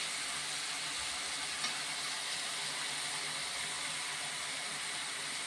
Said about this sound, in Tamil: இது ஒரு நல்லெண্ணெயிலே நான் வதக்குறேன்.